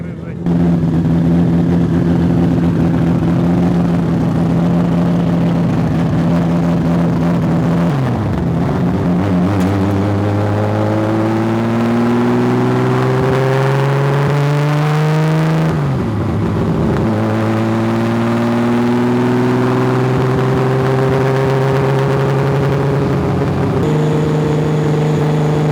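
A Nissan RB26 engine on a dyno revs loudly and repeatedly, its pitch climbing in long sweeps, dropping sharply, then rising again, with voices talking over the roar.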